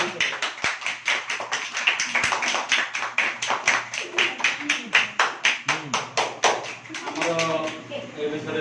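A small group applauding at a farewell meeting, a long run of steady, evenly spaced claps, close and fairly loud, with voices speaking over the claps toward the end.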